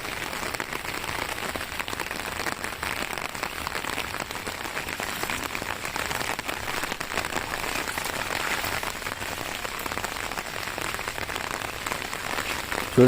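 Rain falls steadily outdoors, a dense, even hiss of drops on surfaces that continues at moderate level without pause.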